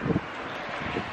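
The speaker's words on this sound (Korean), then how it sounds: "바람 소리만 들어도 너무 춥지 않나요?" Steady wind rushing past, with a few low buffeting gusts hitting the microphone near the start and again toward the end.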